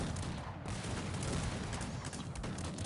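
Volleys of cannon fire from massed artillery in the strategy game Cossacks 3, a dense continuous battle roar with overlapping booms and crackling shots, loud and sustained without a break.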